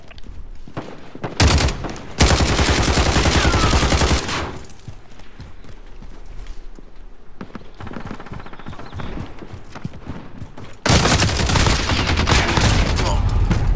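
Bursts of automatic gunfire from a weapon in Call of Duty: Modern Warfare, with loud sustained volleys near the start and again at the end, and sparser shots and game noise in between.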